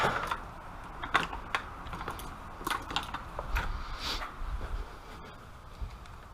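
A clamp being loosened during a GFB blow off valve install on a GTR, heard as a quick series of light, close ratcheting clicks and metallic ticks in an uneven rhythm over a quiet engine-bay background.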